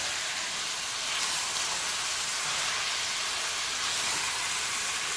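Ground beef browning in a pot for sweet potato chili, a steady broadband sizzle with no voices over it, constant and even from start to finish.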